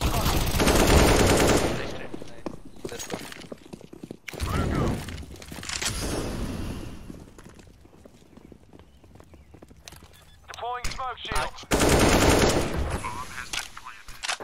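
Rapid bursts of gunfire in Counter-Strike on the Inferno map, loud automatic volleys with shorter pauses between, mixed with game footsteps and quieter stretches.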